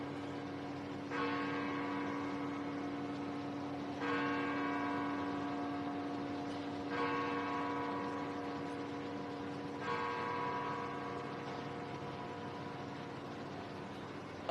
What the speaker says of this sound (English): I'm going to let the bell finish ringing because I want you to hear every word of Mr. Crump and not the bells.